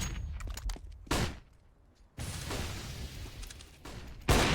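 Gunfire in Counter-Strike on the Dust2 map during a professional ESL Challenger match, with upgraded pistols such as Tec-9s in a B-site rush: several sharp, loud shots in quick bursts separated by short lulls.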